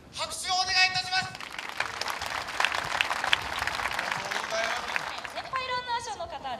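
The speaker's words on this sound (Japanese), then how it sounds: "選手の方々に拍手をお願いいたします。" A crowd applauds runners in sustained, even clapping for several seconds before a half marathon start, framed by an amplified voice speaking at the start and end.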